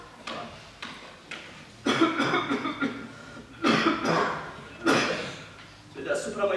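An actor playing a sick clerk in a stage performance of Chekhov's comedy "The Jubilee" lets out a series of harsh, wet coughs in several bursts, close and fairly loud, with stage noise and faint speech between them.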